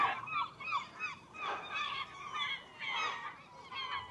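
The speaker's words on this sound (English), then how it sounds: "Seagulls going at it." Seagulls squabble on the Leas clifftop promenade in Folkestone, repeatedly trading harsh, honking squawks and cries in quick overlapping bursts, fairly close and loud over faint outdoor ambience.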